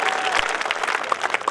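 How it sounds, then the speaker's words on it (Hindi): An audience at a kavi sammelan poetry gathering in Bhinmal applauds for poet Chirag Jain, loud close clapping from many hands with a few crisp individual claps standing out. "एक बार चिराग जैन की तालियां भी बनती हैं, जरा मन से तालियां दीजिए मेरे भाई के लिए"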